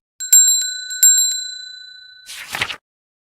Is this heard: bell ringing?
yes